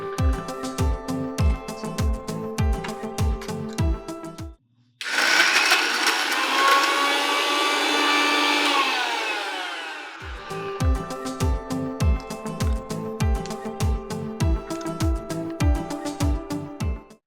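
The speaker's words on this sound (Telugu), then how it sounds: "మిక్సీ వేసేసేయండి" Mixer grinder blending ridge gourd chutney, a loud steady whirring roar for several seconds between stretches of rhythmic chopping or tapping, starting abruptly and winding down as the motor slows.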